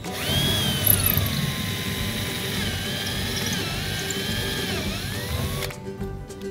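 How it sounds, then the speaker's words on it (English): A power drill whines steadily for several seconds while drilling through drywall into a wall stud, its pitch dipping slightly under load, then stops abruptly near the end. "We'll drill the hole into the stud,"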